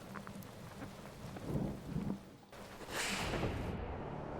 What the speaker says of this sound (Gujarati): આજે વાત કરવામાં આવે તો સવારથી ઉમરેઠની અંદર ધોધમાર વરસાદ વરસી રહ્યો છે